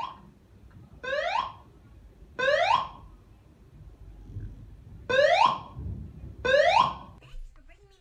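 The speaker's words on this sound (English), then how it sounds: "Let's set the fire alarm off." A fire alarm rings in the video game Hit&Run, sounding four loud, repeated electronic bell bursts in an evenly spaced rhythm with short gaps between them.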